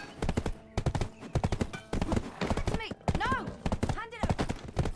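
Black horse hooves clip-clopping in the video game Black Desert, a rhythmic trot that keeps going under someone talking, with a whinny-like tonal sound near the end.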